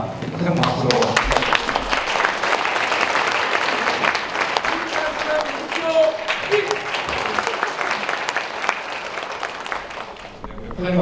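Audience applause rises loud and steady for an alumni association president introduced at a university admissions briefing, thick continuous clapping with voices and cheers mixed in, fading only at the very end.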